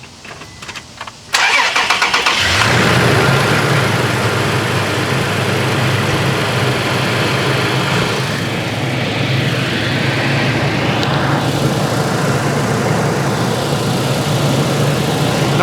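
Close up, a car engine cranks briefly after a battery replacement, catches with a loud roar, then settles into a steady, even idle that runs on alone.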